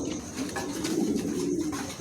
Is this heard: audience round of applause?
no